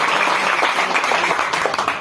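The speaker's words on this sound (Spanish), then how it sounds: "Ese aplauso fuerte para Cristo" A church congregation bursts into loud, sustained applause, dense clapping filling the space steadily before tapering off slightly at the end.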